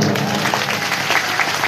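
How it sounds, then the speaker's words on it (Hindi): At a satsang gathering an audience bursts into loud, sustained applause, dense clapping running throughout with no speech over it. "महामंडलेश्वर स्वामी आशुतोषानंद जी महाराज, उनके लिए भी एक बार जोरदार ताली हो जाए"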